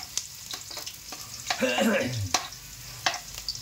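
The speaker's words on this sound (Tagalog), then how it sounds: "So medyo fry na ng konti yung luya" Ginger sizzles in hot oil in a pan while being stirred, with a steady close frying hiss, scraping stir strokes and a brief louder burst of sizzle midway.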